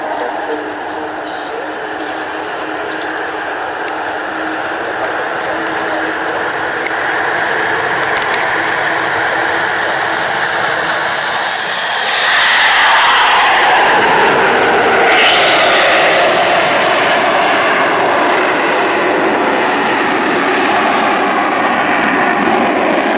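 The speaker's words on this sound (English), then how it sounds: "This amazing aeroplane in all its fantastic live grace and power is a unique piece of" Avro Vulcan XH558 bomber flying at an RAF Waddington air display, its engines roaring loud and continuous, swelling into a harsher, more powerful howl partway through as the aircraft passes close overhead.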